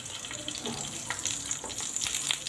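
Green chilies drop into hot oil for a North Karnataka-style cumin chili fry, giving a close, hissing sizzle with scattered pops and spatters, unbroken and without talk.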